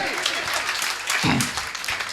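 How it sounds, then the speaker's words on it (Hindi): A crowd at a Hindi comedy poetry gathering applauds in a thick, continuous burst. A voice briefly rises over the clapping midway through. "तालियां बजनी चाहिए थी"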